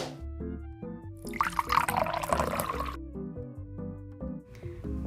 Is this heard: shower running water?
yes